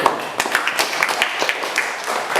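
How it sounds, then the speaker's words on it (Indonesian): Classroom applause for a student group during a teaching session, a short burst of scattered, uneven clapping from a small class, moderately close, with some faint voices mixed in. "tepuk tangan untuk kelompok C"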